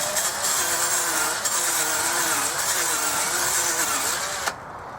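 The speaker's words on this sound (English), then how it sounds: "I'm going to go and get the other drill now because this is going really slow" An electric drill bores steadily into an abandoned arcade cabinet during a repair, its whining motor holding a continuous pitch with slight wavering, close and loud, before cutting off abruptly near the end.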